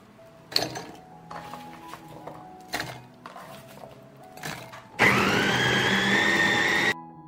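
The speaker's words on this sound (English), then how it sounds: "I will mince the onion." An electric grinder minces peeled onions in a loud, steady two-second whir at the end, after several sharp clunks and knocks of handling.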